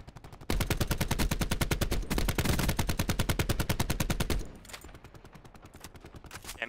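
Automatic gunfire in Call of Duty Black Ops 4 during a 2v2 CWL Search and Destroy match on the Firing Range map: rapid, evenly spaced shots in loud sustained bursts that drop to quieter, more distant fire near the end.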